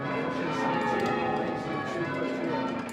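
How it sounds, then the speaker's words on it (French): English church bells ring a change-ringing peal over a village, with overlapping bell strikes and sustained ringing tones blending into a steady, moderately distant wash. "les cloches vont déverser leur carillon sur le village tout entier"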